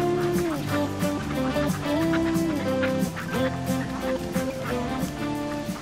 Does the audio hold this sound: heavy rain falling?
no